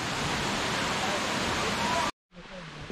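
A waterfall at the alpine Lake Serene roars as a steady, loud broadband rush, cutting off abruptly near the end before quieter ambience returns.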